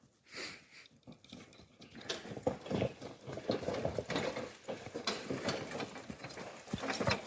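A mare's hooves clip-clop at a steady walking pace, pulling a cart with rattling and creaking, moderately close and fairly quiet.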